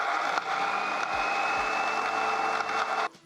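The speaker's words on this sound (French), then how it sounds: "Et on va mixer l'ensemble." A kitchen blender whirs loudly for about three seconds, mixing green New Mex chile into an olive tapenade, with a steady motor drone that dips in pitch briefly a couple of times before cutting off.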